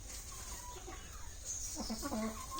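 Hens clucking and murmuring close by in a short burst of harmonic calls, over a steady background hiss with no talking.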